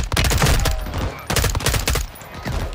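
Rapid gunfire bursts from Call of Duty Modern Warfare II, loud and close, with dense overlapping shots in two clusters separated by a brief lull.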